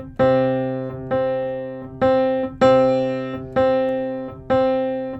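Six syncopated piano chords in a repeating pop clave pattern, each struck firmly and left to ring, played alone at moderate volume.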